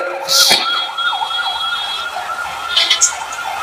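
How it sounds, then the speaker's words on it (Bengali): A wailing siren rises and falls nearby, loud and steady, with a brief bang and faint traffic underneath. "ডানে কি অ্যাম্বুলেন্স যাচ্ছে"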